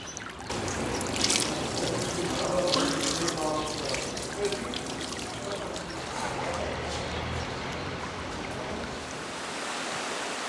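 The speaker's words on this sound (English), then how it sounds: "its springs, channeled through pipes that deliver water at different temperatures" Hot spring water in Jermuk pours steadily through pipes, a continuous broadband rush and splash with a trickling quality, close and fairly loud, running unbroken throughout.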